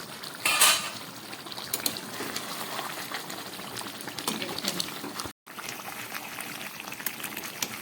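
Chicken curry with yogurt simmering in an uncovered pot, a soft bubbling and popping with a brief clatter near the start as the lid comes off, close and low in level, with a short dropout partway.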